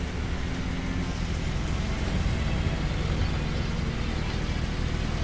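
A Mitsubishi's engine drones at racing speed in the video game Tokyo Xtreme Racer Zero, a steady, fairly quiet roar that holds without pause.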